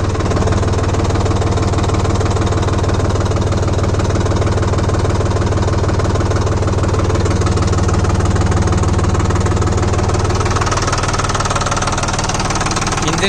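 An engine with its shuttle gear in neutral runs at a steady, loud idle with a rhythmic knocking chug that stays constant throughout, close by and uninterrupted.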